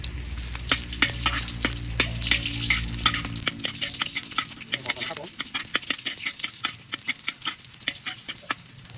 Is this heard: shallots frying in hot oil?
yes